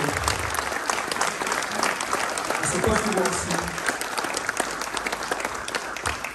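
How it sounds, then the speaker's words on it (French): Council members and audience at a mayor's New Year wishes ceremony applaud collectively, sustained dense clapping across the room with a voice speaking over it. "je vous propose que nous nous applaudissions collectivement"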